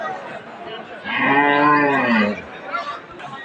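A Sahiwal breed cow lets out a single long, loud moo in the middle of a cattle market, rising and then falling, with faint background chatter before and after.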